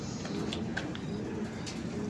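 A pigeon coos softly amid a steady outdoor background, faint and somewhat distant, with no talking.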